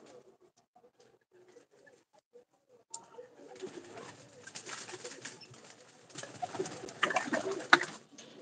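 Soft pigeon coos, quiet at first, then joined by a busier flutter of birds and rustling that grows fuller toward the end.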